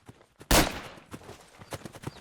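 A single loud gunshot from the World War II shooter Darkest Hour Europe 44-45, followed by softer clicks and thuds of in-game movement and handling.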